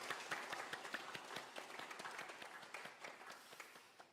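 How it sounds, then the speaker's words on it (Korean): A church congregation at a Sunday morning service claps together in a quick, even rhythm of many hands, moderately distant in the hall and fading slightly toward the end. "우리 박수로 감사와 축복의 마음을 전하겠습니다."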